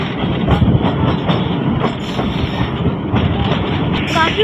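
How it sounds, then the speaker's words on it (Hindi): A train pulls out of Taxila railway station in Pakistan, a loud, close rumble with rhythmic clatter of wheels over the rails and a brief squeal near the end. "निकल रहे हैं टेक्सला रेलवे स्टेशन से"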